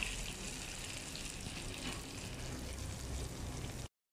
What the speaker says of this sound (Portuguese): Vejam só que já está a fritar aqui a badia.